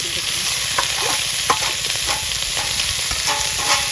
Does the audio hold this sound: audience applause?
no